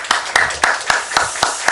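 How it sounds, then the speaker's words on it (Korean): A church congregation at a special dawn prayer service claps in thanks, giving about seven steady, evenly spaced claps in a moderately loud rhythmic beat. "우리 또 그 무명의 집사님에게 감사의 박수 한번 하시죠"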